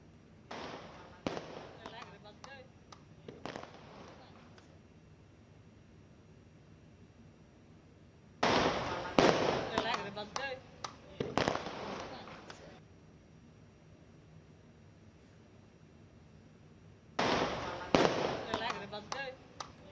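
Fireworks celebrating an Olympic medal victory in Panipat, Haryana burst in three separate volleys of rapid crackling bangs, loud and sharp, with quieter gaps between them.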